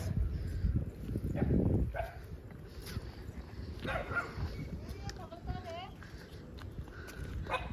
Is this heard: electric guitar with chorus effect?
no